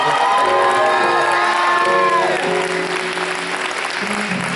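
Concert audience at a university gospel choir performance applauds and cheers the choir, a loud, dense wash of clapping with whoops and shouts throughout, gradually easing slightly toward the end.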